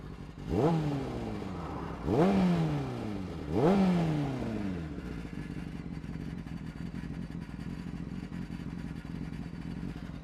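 A motorcycle engine with a fueling and air fault blips three times in quick succession, revs rising and falling unevenly, then settles into a rough, uneven idle.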